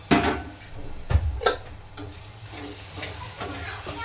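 Tomatoes and winged beans sautéing in a pan, a low sizzle under repeated clanks and scrapes of a spoon stirring against the metal, loudest at the start and then settling into lighter, irregular taps.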